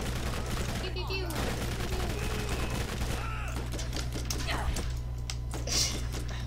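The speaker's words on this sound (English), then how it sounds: "you just shoot the last ones. Pew, pew, pew." Rapid video game gunfire in Borderlands, steady and dense throughout over a constant low hum, mixed with clicky keyboard-like taps and talk layered on top.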